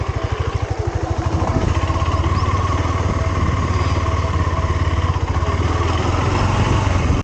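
Single-cylinder KTM 390 Adventure motorcycle engine running steadily up close, a loud, rapid thumping pulse that holds throughout with no talking.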